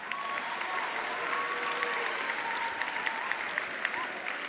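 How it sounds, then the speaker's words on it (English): A closing-ceremony audience applauds volunteer guest speakers with moderately loud, continuous clapping, while a voice speaks faintly underneath. "Give them a round of applause, please."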